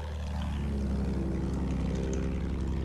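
A Battlefield 1 support attack plane gives a steady propeller drone that hums continuously, a low buzzing engine sound that stays even and fairly faint throughout.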